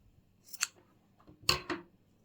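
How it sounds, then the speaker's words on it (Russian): Scissors snip crochet thread in two quick, close, crisp cuts, each a short double click, with quiet pauses between them. "Обрезаю нить."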